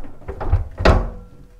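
Heavy door aboard a Nordhavn 68 yacht pulled shut: a short scrape and rumble of movement, then one solid thunk close by, fading into quiet.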